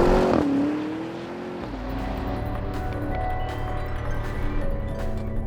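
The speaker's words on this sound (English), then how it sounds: "Just letting that V8 sing." A Porsche Cayenne Turbo GT's V8 revs in a racing video game. A sharp blip falls away into a loud, steady, deep engine drone that holds close and unbroken.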